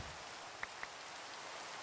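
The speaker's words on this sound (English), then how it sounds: "It just started raining." Steady rain falling in Minecraft, a soft continuous hiss with a couple of faint drip-like ticks, heard alone without voices.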